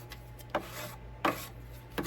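Wooden dollhouse front door being sanded with a sander and the edge of a sanding block, giving three short scratchy rubbing bursts about two-thirds of a second apart over a faint steady hum.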